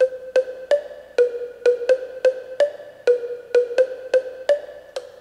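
Short, bright synth plucks made in Logic Pro X's Ultrabeat, run through a limiter, repeat in a steady, even pattern, each note snapping in sharply and fading fast, held at a consistent level without any talking.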